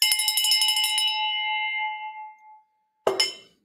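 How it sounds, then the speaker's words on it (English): A bell is struck and rings out clearly, its bright metallic tone fading slowly into silence before a second sharp strike sounds near the end. "There's some bell ringing for everybody that was missing it"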